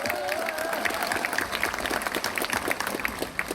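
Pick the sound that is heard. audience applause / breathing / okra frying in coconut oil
audience applause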